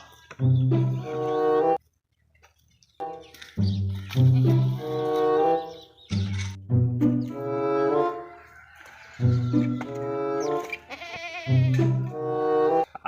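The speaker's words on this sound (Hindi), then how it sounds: "मेरा बकरा" A goat bleats repeatedly and loudly up close, with four or five long wavering calls separated by short pauses and no talking.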